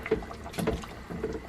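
Potato soup stirred with a wooden spoon: a brief, soft slosh and thick liquid swirl in a pot, close and quiet.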